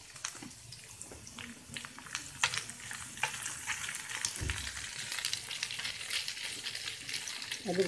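Onions frying in oil in a pan for Egyptian koshari, a steady crackling sizzle with scattered sharp pops and stirring scrapes, moderately close, with brief speech fragments and a tap running near the end.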